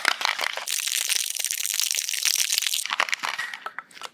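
Continuous rattling crunch of ice shaken hard in a cocktail shaker, loud and close, steady for several seconds before tapering into a few scattered clinks.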